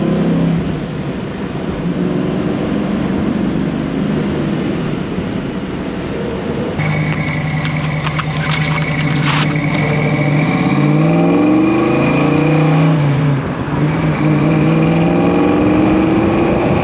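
A 1966 Ford Mustang with a rebuilt 289 V8, performance upgrades and a five-speed manual drives along the road. Its engine drones steadily, then revs up and down through gear changes, loud and close.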